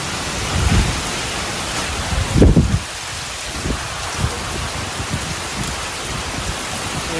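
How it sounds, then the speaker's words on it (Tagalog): Heavy rain pours steadily during a typhoon, with wind gusting through it at an outdoor fish-keeping spot; a loud low rumbling burst swells near the middle, then dense rain hiss continues. "Sobrang lakas ng ulan at saka ng hangin."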